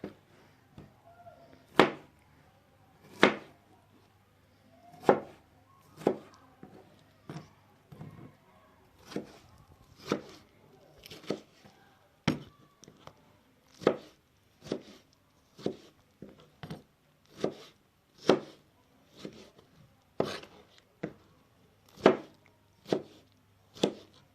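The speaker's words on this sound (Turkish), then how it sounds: "Küp küp doğruyoruz." A knife dices peeled tomatoes on a cutting board, crisp regular taps repeating over and over at a brisk, even pace, close up with no talking.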